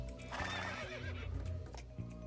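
A horse rears and neighs in the Star Stable video game, a new Dutch breed horse, with a loud whinny over hoof clops and steady game background music.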